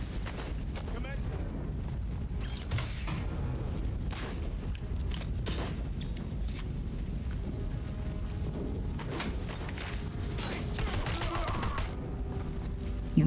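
Rapid gunfire from the video game Robocop: Rogue City, a continuous crackling volley with booming impacts, heard under ongoing talk.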